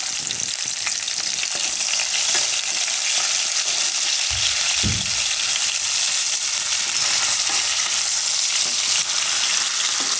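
Cashews and curry leaves fry in hot oil for a sprouted-fenugreek pulao, a steady, loud broadband sizzle that runs the whole time, with a few soft stirring knocks near the middle and no voices.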